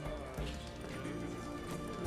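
Horse hooves clattering in a quick galloping rhythm in The Witcher 3: Hearts of Stone, dense and fairly loud, mixed with game ambience.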